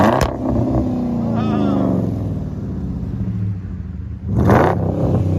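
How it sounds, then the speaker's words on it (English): A 2017 Jeep Grand Cherokee 5.7L HEMI V8 with dual exhaust and Xlerator mufflers revs up and down in sport mode with a deep, throaty exhaust roar, loud and close, while people talk over it. "He's going to put it in sport mode"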